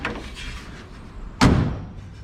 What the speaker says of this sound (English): let's close this and see what it shuts like with these aftermarket door rubbers